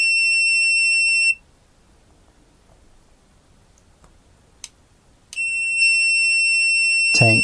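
A GVDA GD166B AC/DC clamp meter gives a loud, steady high-pitched continuity beep, cuts out for about four seconds, then beeps continuously again.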